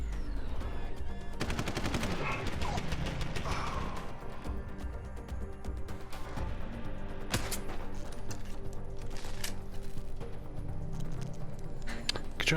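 An automated turret in Deus Ex: Human Revolution rattles off bursts of rapid gunfire, with sharp repeated cracks and impacts spread across several seconds, loud and close amid game noise.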